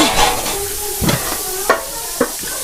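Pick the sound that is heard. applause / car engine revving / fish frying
fish frying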